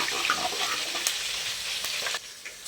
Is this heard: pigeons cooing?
no